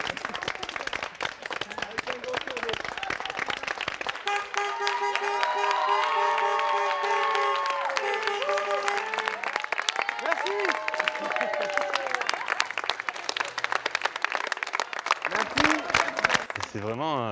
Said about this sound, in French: va assister aux applaudissements en soutien au personnel soignant